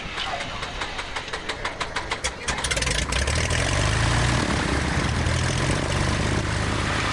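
A small airplane's propeller engine cranks with rapid rhythmic chugs, then catches and roars into a loud, steady rumble close by.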